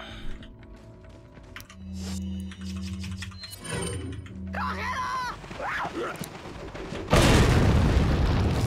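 A grenade blast in Resident Evil 4 goes off as a sudden loud, rumbling boom near the end, after stretches of game sounds, a low mechanical drone and brief chatter.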